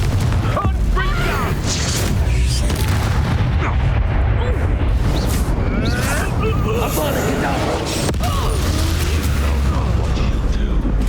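In Hogwarts Legacy on Nintendo Switch, the Confringo fire spell sets off a string of loud booming blasts amid crackling, whooshing game effects, with voices shouting over the din.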